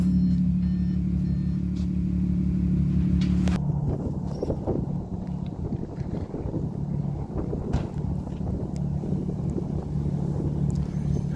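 An Audi S5 fitted with a bespoke custom exhaust system rumbles loudly nearby, with a steady deep drone that gives way to rougher, rasping bursts and crackles.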